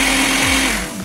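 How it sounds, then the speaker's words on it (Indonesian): A blender motor purees peeled ingredients for a homemade pizza sauce, a loud, steady whirring drone that holds for the whole short stretch with no voices. "kita masukkan ke blender dan ini akan kita haluskan"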